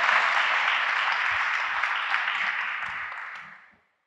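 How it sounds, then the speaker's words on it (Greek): A church congregation bursts into loud, dense applause that fills the room evenly, then gradually thins and fades out to silence near the end. "Ας δώσουμε ένα όμορφο, δυνατό χειροκρότημα για το σωτήρα μας Ιησού Χριστό"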